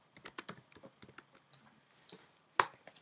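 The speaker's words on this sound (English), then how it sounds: "I'm going to type in Wuhan," Quick typing on a computer keyboard, a run of light key clicks in an uneven rhythm with one louder key press near the end, close and clear in a quiet room.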